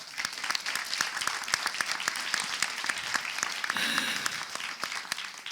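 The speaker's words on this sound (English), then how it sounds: "I think also a round of applause for the Taste of the Sea session." An audience at a closing session claps in a dense, sustained round of applause that stays fairly even for over five seconds, with no voices rising above it.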